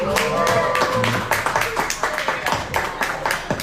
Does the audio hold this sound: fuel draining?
no